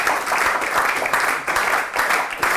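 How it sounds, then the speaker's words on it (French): An audience in a lecture hall claps together, trying to fall into sync, producing dense applause that swells into loose periodic pulses of roughly two beats per second. "d'applaudir en vous synchronisant"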